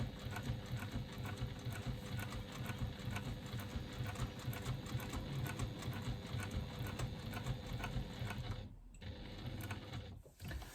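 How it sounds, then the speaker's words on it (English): A sewing machine top stitches an eighth-inch seam around the outside of a fabric pocket onto a lining panel, a steady close whirring rattle that runs continuously, then stops briefly twice near the end. "So I'm top stitching here around the outside of my pocket at an 1/8 of an inch seam allowance"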